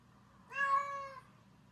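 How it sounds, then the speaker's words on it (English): A single clear cat meow, drawn out for about a second, close and alone against quiet background hiss. "kitty cat."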